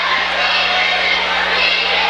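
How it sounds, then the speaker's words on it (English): A crowd at a high school basketball game roars with excitement late in a lopsided game, a steady, loud, broad rumble of voices filling the gym with a low hum underneath. "Crowd is definitely excited for the young guys."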